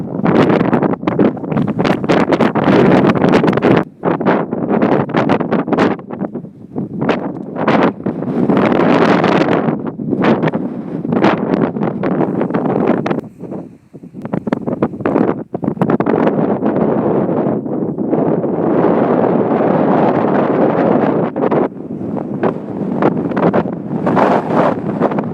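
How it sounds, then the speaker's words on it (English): Strong gusty wind on the Isle of Wight buffets the microphone in loud, roaring rushes that rise and fall continuously, with only brief lulls. "Beautiful day, but as you can hear, quite windy."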